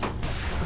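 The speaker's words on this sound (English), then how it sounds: "Sounds like gunfire." A burst of rumbling gunfire in The Walking Dead video game, low and booming, fills a brief moment without any talking.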